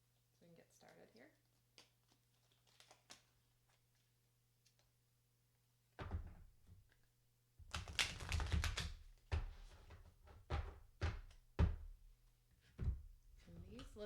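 A deck of national park cards from a board game is shuffled close by, with quick bursts of papery riffling and tapping after a quiet opening with faint ticks.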